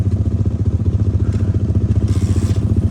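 A motorcycle engine runs loud and close on a rough off-road track between Rohtas Fort and Tilla Jogian, its thumping exhaust pulses steady while the chassis clatters over bumps.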